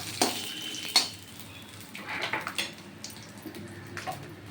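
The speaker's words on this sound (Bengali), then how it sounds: "এই বাদামটা আমি একটু একটু ভাজা করে নেব" Chopped nuts frying in a pan while vegetable patty and chop filling is made, a steady low sizzle with a few sharp clinks of a utensil stirring against the pan, close and fairly quiet.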